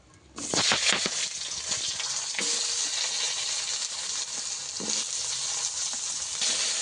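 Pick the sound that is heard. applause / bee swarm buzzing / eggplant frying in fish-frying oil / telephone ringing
eggplant frying in fish-frying oil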